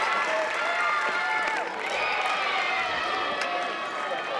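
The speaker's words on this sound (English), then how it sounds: "Even Upstate is starting to cheer" Crowd noise rising at a 2016 NCAA softball regional game between Jacksonville State and Oregon State, a steady wash of cheering and clapping from the stands with whistles and shouts, fairly loud and continuous throughout.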